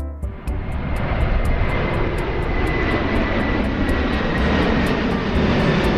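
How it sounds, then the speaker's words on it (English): Airplane flyby: a loud, steady roar of aircraft engines that swells quickly and holds broad and constant throughout, with no voices. "This is airplane flyby."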